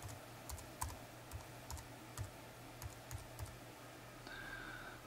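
A password goes in on a computer keyboard as a quiet, close run of separate key clicks with uneven rhythm and small gaps, in a hushed room with no talking.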